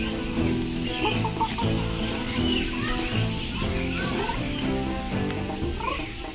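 A person imitates a chicken's call, clucking and crowing continuously and loudly over dense, busy background noise.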